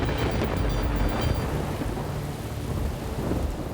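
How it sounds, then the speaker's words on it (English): A thunderstorm rolls over a mountain in South Africa, with a deep, continuous rumble of thunder close by beneath steady heavy rain, and no voices. "we started to hear a little rumble in the background, and we realised that there was a storm"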